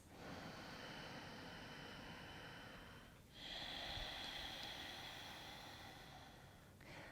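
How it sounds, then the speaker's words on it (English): A person demonstrates Ujjayi yoga breathing, a long, steady, ocean-like hiss of breath drawn and pushed through a constricted throat, heard close and alone in two sustained strokes with a brief pause between. "the technique that we're going to use now is called Ujjayi breath, or Ujjayi breathing, means the victorious breath."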